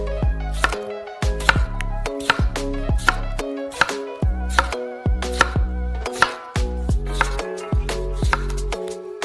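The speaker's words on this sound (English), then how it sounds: "cut the tomato into circles" Knife slicing a tomato into rounds on a cutting board for pizza filling, a steady series of sharp, close chops repeating about every half second, with no talking.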